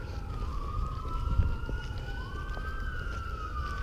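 An ambulance siren wails at a distance near a cemetery, its tone sliding up and down over a low rumble of background noise.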